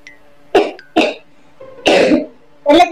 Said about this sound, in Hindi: पहले चलेंगे अपन डॉक्टर मेरे को खांसी हो रही है